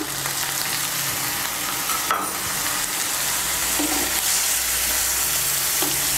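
Spice paste for a vegetarian flat bean and potato curry sizzling and being stirred in a pan, a dense steady frying hiss with occasional scraping strokes, close and fairly loud.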